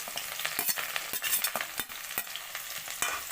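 Onion and curry leaves fry in hot oil with mustard and cumin seeds, a dense crackling sizzle broken by sharp scraping stirs and spatula clicks, close and steady with no voices.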